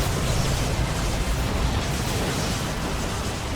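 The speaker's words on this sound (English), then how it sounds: "backing away from the explosion as much as they could" A Bio Meltdown explosion from the Dawn of War 2 video game, a loud, sustained broadband roar and rumble that holds steady for several seconds with no pause.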